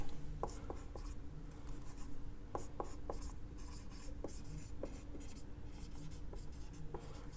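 Chalk or marker strokes on a board during a physics lesson on units and measurements, a steady run of short scratchy taps and strokes in a quiet room, no voices.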